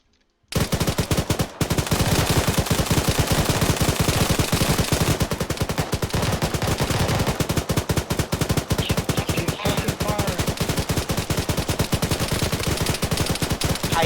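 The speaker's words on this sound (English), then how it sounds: "Fire support. Suppressive fire." Sustained automatic machine-gun suppressive fire in the modded military shooter game Arma 3, a loud, dense stream of rapid shots running almost unbroken for the whole stretch, with faint voices underneath.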